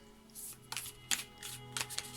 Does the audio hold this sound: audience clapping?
no